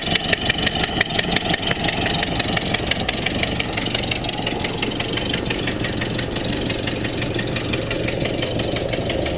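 A 1930 Ford Model A engine runs steadily after sitting 37 years, a rough, loud idle with a continuous chugging beat and no talk over it.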